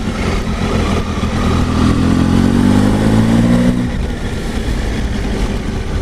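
Triumph Tiger 800 XR three-cylinder 800 cc motorcycle, 2019 A2 version, pulling smoothly in fourth gear around 1500 rpm, a close, steady engine drone with a rising tone, then settling into wind and road rumble.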